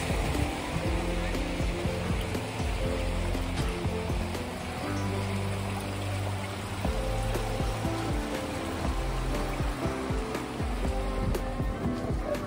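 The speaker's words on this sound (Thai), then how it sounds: "เดินไปเราก็จะได้ยินเสียงน้ำตกซึ่งเป็นน้ำที่ไหลมาจากภูเขา" A waterfall of water running down from the hills near Lulworth Cove on the English coast makes a steady, continuous rushing wash that holds at an even level throughout.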